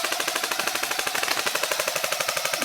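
An airsoft gun fires continuously at an outdoor airsoft field, a rapid, evenly spaced stream of sharp cracks running steadily and loud throughout, with no talk over it.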